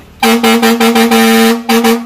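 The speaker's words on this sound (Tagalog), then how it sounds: "Andy, tirahin mo nga yung fire air horn natin." A loud, brassy truck fire air horn, a stock horn on an Isuzu N Series truck, blasts in a quick series of short pulses, then pauses briefly before one more blast.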